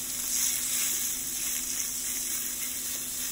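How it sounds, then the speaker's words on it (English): Beef strips for chow mein fry in a pan with onions and mushrooms, a quiet, even sizzle that holds steady throughout with no voices. "You want to be cooking your beef and frying your beef."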